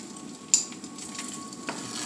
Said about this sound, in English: Let it fry a little bit.